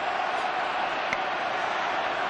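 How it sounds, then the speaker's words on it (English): Munster supporters roar their side on at a Leinster versus Munster URC semi-final rugby match, a dense, steady crowd wash that holds at full level throughout without breaks. "Crowd urging their side on. It's the Munster voices that you hear now."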